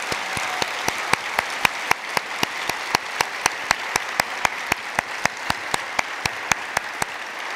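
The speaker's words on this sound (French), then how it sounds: "Je pense que ça vaut même une main d'applaudissement." Graduation ceremony audience at an education faculty convocation giving a round of applause, heard as a sparse, regular series of sharp claps with a soft clapping wash underneath, fairly close and steady throughout.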